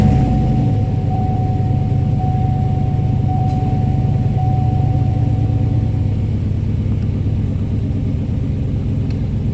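A 2005–2008 Pontiac Grand Prix engine idles from inside the car, giving a steady low rumble with a faint whine, close and continuous with no talking.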